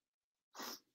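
A single short sneeze bursts out after a moment of near silence, sharp and breathy, fairly close.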